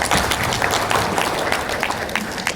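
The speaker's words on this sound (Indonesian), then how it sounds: "Ya. Aplaus dulu nih." Audience applause at a cooperative's annual members' meeting, a steady dense wash of many hands clapping throughout, fairly loud and even with no talk over it.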